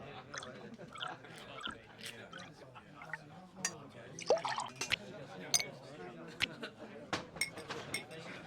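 A drink is poured with lime and ice in a Nancy Drew game: quiet liquid trickles and drips mixed with light clinks of ice against glass, scattered sharp taps over a low background.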